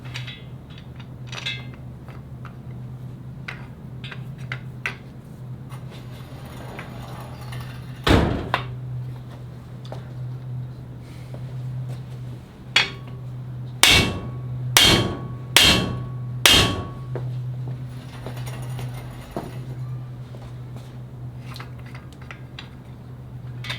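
Loud hammer blows drive cam bearings into an LS2 engine block: one sharp strike, a couple of scattered taps, then four heavy whacks in quick succession over a steady low hum.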